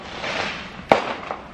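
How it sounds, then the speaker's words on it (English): Fireworks popping in the distance on the Fourth of July, one sharp pop followed by a fainter one over a soft background hiss. "You can hear fireworks in the background."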